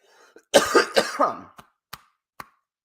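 A close, rough coughing fit of several hacking bursts, followed by a few quieter isolated coughs and clicks.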